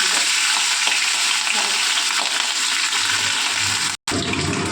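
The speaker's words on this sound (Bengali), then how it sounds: "কড়াতে তেল গরম হয়ে গেছে, আমি অল্প কালো জিরে ফোড়ন দিয়ে দিলাম। এরপর দেখুন দিয়ে দেবো মাছ।" Hilsa fish frying in hot oil in a wok tempered with nigella seeds, a loud steady sizzle running throughout, with a brief dropout near the end.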